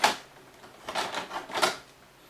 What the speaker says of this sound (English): okay, so I pull out the Bluetooth keyboard